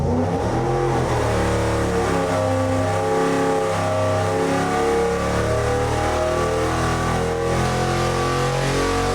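A junkyard Ford 445 FE V8 fitted with modern EFI revs hard on a dyno toward 6,500 rpm, a loud, continuous engine howl with pitch rising and falling through repeated pulls.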